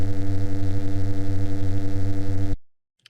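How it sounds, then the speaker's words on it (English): A high-voltage electrical hum sound effect from MetaSounds throbs steadily with a pulsing buzz for about two and a half seconds, then cuts off abruptly, leaving a couple of faint clicks. "High voltage."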